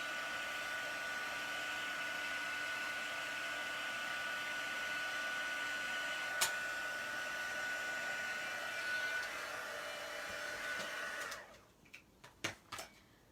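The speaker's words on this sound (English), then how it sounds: "And it works better if your heat tool is already heated up" A heat embossing heat tool blows hot air over a card in a steady, fairly quiet whirring hum that runs continuously, then cuts off, leaving a few small taps and clicks.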